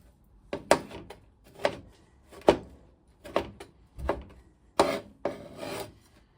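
Mince pies being chopped roughly with a knife on a board, about nine distinct cutting thuds with short rasping scrapes in an uneven rhythm, close and clear with no talking.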